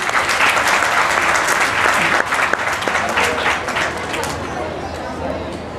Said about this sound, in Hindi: तो आज सभी उन सब के लिए तालियां बजाएंगे।